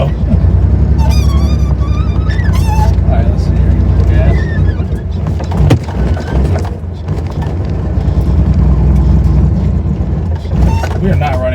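A Porsche 911 runs rough and misfires, not on all cylinders, while being driven slowly up a driveway, its uneven low engine rumble continuous and close beneath a man's speech.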